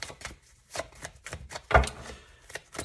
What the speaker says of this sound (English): I'm just going to keep shuffling here. Get about 5 or 6 more cards